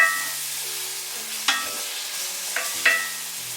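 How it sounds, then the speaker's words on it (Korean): Minced garlic, onion and peperoncino cook gently in olive oil over very low heat for a spicy shrimp spaghetti sauce, giving a soft, steady sizzle broken by a few sharp utensil clinks and scrapes. "아까 다져놓은 마늘과 양파, 그 다음에 페페로치노를 넣습니다"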